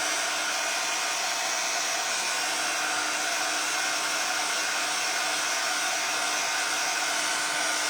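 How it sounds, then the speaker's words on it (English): A hair dryer runs steadily and continuously, blowing on a plastic-on-wood Christmas ornament during a craft session, with a close, even whooshing hiss throughout and no pauses. "So I'm just going to dry it a little bit."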